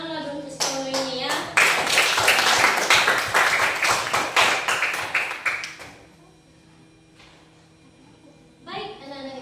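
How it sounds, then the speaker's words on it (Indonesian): Energetic clapping from a group of schoolchildren in an Indonesian school for about four seconds, fading out, with speech heard before and after. "tepuk tangan untuk sekolah ini ya"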